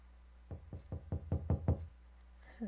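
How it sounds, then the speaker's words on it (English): Knocking on a door in the horror game Bloody Buddy Survive: six evenly spaced, solid knocks in a steady rhythm, growing slightly louder, then a pause and a faint after-sound over a quiet background hum. "Knocking, man."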